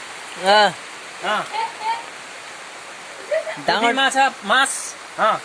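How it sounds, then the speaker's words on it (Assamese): Heavy rain pours steadily onto a muddy courtyard in Assam, a continuous broad hiss running through the whole stretch while several people talk nearby over the downpour. "এতিয়া বৰষুণ বেছি হৈছেতো।"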